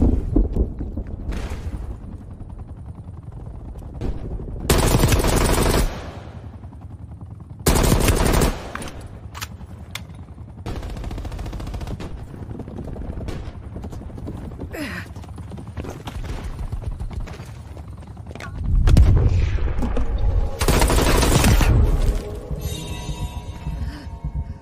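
Gunfire rattles through a Call of Duty Cold War multiplayer match: several loud bursts of automatic fire stand out among quieter stretches of distant shots and game noise, with a faint voice now and then.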